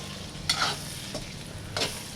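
Egg and rice mixture being stirred and fried in a hot pan, with a few brief scraping strokes of the spatula over a low, steady sizzle, and no voices.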